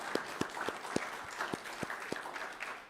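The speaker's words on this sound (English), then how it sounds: "Let's give Ian a round of applause." A round of applause for Ian, given by a church or parish gathering, heard as steady mid-distance clapping that keeps a regular beat throughout, with no voices over it.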